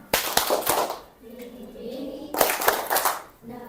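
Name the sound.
hands clapping rhythm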